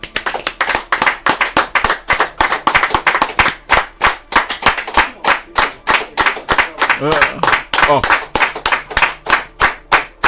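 Audience applause for a newly installed king at a town ceremony in Ikirun, with steady, loud rhythmic hand clapping from a crowd throughout, along with some voices.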